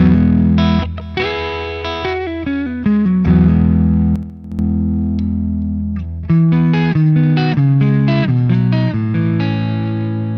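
An Enya Sonic JT guitar played through its Deluxe Clean amp model, with a sequence of strummed chords and picked notes ringing out loud and clear, with no talking.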